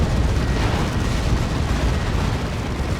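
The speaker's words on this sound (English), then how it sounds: "Eats a melter bomb." A melta bomb goes off during a Dawn of War 2 multiplayer battle, heard as a loud, sustained, rumbling roar of explosive noise that fills the whole moment without letup.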